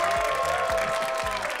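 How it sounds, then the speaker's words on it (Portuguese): Brief burst of audience clapping for a game show contestant, a crowd applauding briefly in a studio. "Salva de palmas pra Lisandra."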